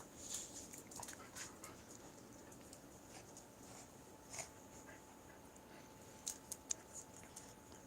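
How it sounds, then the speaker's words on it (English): A small 10-pound dog and a large 50-pound dog play together, with faint panting, light scuffles and soft clicks scattered over a quiet indoor background. "Little 10-pound dog versus a 50-pound dog."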